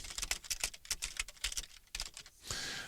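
Rapid typing on a computer keyboard, with dense, close clicking keystrokes in an uneven rhythm, ending in a brief steady rush of noise.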